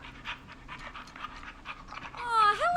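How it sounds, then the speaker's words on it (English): Dog panting inside the video game Killer Frequency, a run of quick breathy pants at moderate level, followed at the end by a brief rising whine-like tone. "Max is my emotional support dog."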